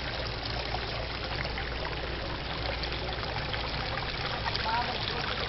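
A small garden waterfall trickles and splashes steadily, a continuous close water wash with no break and faint voices beneath.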